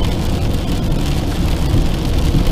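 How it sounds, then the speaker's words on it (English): Steady heavy rain drums on a car while driving, a dense, loud, continuous wash with a low road rumble underneath and no voices. "the rain's not stopped all day."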